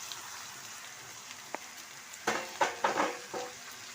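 Chicken pieces hit hot oil and onion paste masala in a pan, setting off a run of loud, close sizzling bursts after a quiet start, with no talking.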